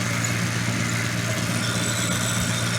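A small wood lathe motor running steadily, a constant slightly noisy hum and whir with no change in pitch, close by and alone throughout.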